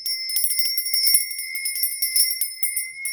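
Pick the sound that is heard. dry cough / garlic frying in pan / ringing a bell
ringing a bell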